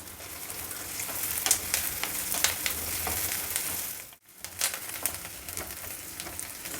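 Dry red chillies and onion sizzle steadily in a hot pan, a dense continuous frying hiss with occasional stirring clicks and a brief dip near the end before the crackle resumes.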